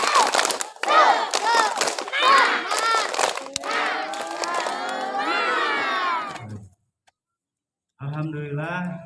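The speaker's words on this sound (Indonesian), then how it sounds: "Tepuk semangat." Elementary school students at a Monday flag ceremony chant and clap a rhythmic spirit cheer together, a loud crowd of children's voices with bursts of clapping, then a short pause before voices start again.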